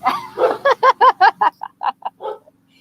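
A dog barks at people mowing the lawn in a quick series of about a dozen sharp yips, loud and close, tapering off into softer barks.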